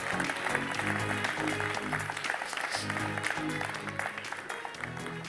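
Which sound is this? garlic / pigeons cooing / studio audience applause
studio audience applause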